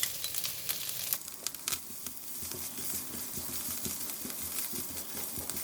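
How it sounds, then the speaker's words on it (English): Hard spring onion stems fry in a pan for mee goreng, a quiet continuous sizzle broken by scraping stirs and light clinks of a utensil against the pan. "We fry a bit until the vegetable a bit softened"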